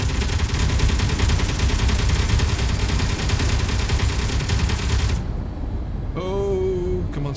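Rapid automatic weapon fire from a ship in the Space Engineers game pounds continuously and loudly for about five seconds, then cuts off, leaving a brief electronic whine.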